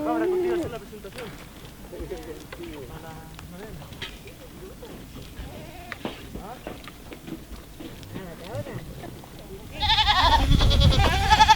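Goats bleat at a rural community homestead, several wavering cries scattered through the scene while people talk and shout nearby, ending in a louder burst of commotion.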